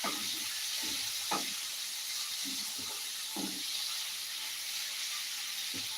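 Prawns roast in a hot pan with a steady, broad sizzle, broken by a few soft scrapes and stirring knocks; close and fairly quiet, with no voices.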